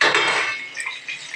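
Utensils clink and scrape against a pan as fried potatoes are strained and lifted out in a home kitchen, a burst of clatter at the start that fades to lighter metallic taps and drips.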